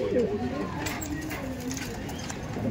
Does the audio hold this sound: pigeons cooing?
yes